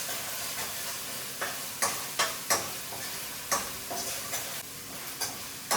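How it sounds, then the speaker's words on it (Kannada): About nine green chillies fry in hot oil for a gravy base, a soft continuous sizzle broken by distinct clicks of a spoon stirring against the pan. "ಒಂದು 9 ಹಸಿಮೆಣಸಿನ್ಕಾಯಿ ಹಾಕೋತಾ ಇದ್ದೀನಿ. ಇದನ್ನು ಕೂಡ ಚೆನ್ನಾಗಿ ಫ್ರೈ ಮಾಡ್ಕೊಳ್ಳಿ."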